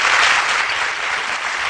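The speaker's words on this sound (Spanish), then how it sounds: "Le damos otro aplausito" Audience applause on a Spanish cinema show, a dense, loud and steady wash of many hands clapping at once, continuous for its whole short span.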